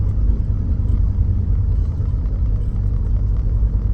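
Steady low engine rumble and road noise heard from inside a moving car, a constant deep drone without pauses or gear changes.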